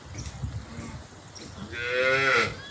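A dairy cow lets out a loud, drawn-out moo close by on a dairy farm, after some low rustling and shuffling.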